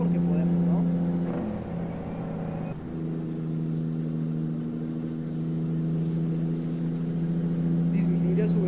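Kenworth T600 truck loaded with gravel accelerating on a road, a steady low engine drone with a rising whine, close and continuous, with a brief dip partway through.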